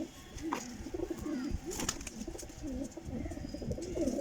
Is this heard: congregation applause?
no